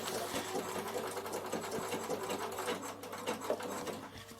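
A Bernina sewing machine hums and clatters continuously while it stitches a single star pattern on wool appliqué for a draught stopper.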